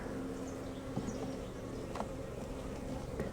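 Honeybees at an opened hive make a dense, steady buzzing hum, close and continuous, with no talk over it.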